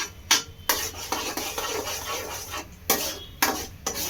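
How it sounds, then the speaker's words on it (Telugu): A spoon scrapes and stirs food around a kadai to keep it from sticking to the bottom, producing repeated scraping strokes with a few sharper knocks against the pan, close and moderately loud with no talking. "అంటే కింద బాండీలకి అడుగు అంటకుండా. ఓకేనా, అలా మిక్స్ చేస్తూ ఉండాలి."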